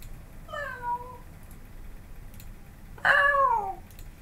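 A domestic cat meows twice, a shorter call followed by a louder, longer one about two seconds later, close by over a quiet background hiss.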